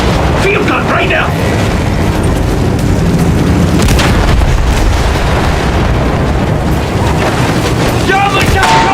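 A field gun firing in the video game Battlefield 1: loud, booming blasts within a constant wall of battlefield noise, with shouting voices mixed in throughout.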